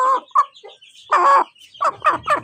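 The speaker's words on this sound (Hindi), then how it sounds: "चलें यार, ये मुर्गी है माशाल्लाह" A hen clucks close by in short bursts. Choppy, throaty calls come in an irregular rhythm, with a longer call in the middle.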